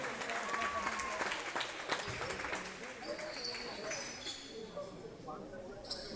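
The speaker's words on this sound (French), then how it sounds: "Sous vos applaudissements." Basketball arena crowd applauding as a player on three personal fouls is substituted, a sustained wash of clapping and cheering with a few sharp whistle-like tones and chatter mixed in.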